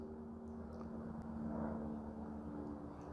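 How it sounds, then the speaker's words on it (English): A helicopter flies somewhere overhead, heard only as a faint, distant, steady engine hum that swells slightly and then eases within a few seconds, with no voices. "waiting for the helicopter to get out of here"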